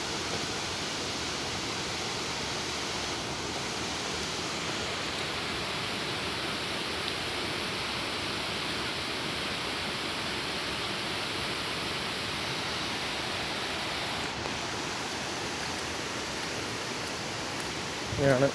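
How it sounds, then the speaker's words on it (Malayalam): A hillside stream in Poonjar, Kerala, runs down toward waterfalls with a steady, unbroken rushing wash of water that stays loud and even throughout, with no voices over it. "ഇങ്ങനെയാണ് ഈ അരുവി ഇവിടുന്ന് താഴത്തോട്ട് ഇറങ്ങുന്നത്."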